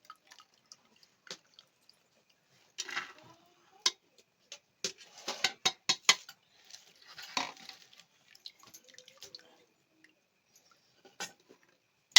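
Metal ladle or slotted spoon scooping cooked shevla vegetable into a pressure cooker beside a wood-fired stove, giving scattered clinks and taps with a busier cluster of scraping knocks in the middle, fairly quiet overall.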